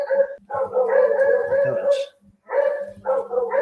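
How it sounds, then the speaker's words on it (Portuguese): Dogs bark in repeated loud, close bursts with a few yips, in two clusters separated by a short pause, while a person speaks briefly over them. "Eita, os cachorros."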